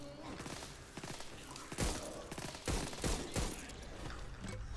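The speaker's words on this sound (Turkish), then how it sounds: "Şu an pistol harcıyorum ya ben" Sharp pistol shots from the zombie shooter game Back 4 Blood crack out in a quick irregular string of close reports amid busy game noise, with a voice talking at times.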